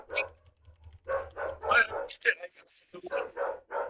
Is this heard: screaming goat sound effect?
no